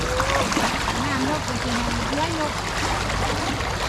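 Floodwater pours in at the mouth of a pipe during flooding, a steady rushing and trickling wash that runs throughout, with faint voices talking underneath.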